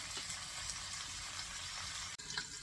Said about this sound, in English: So I just put a lid on this and you can hear it sizzling.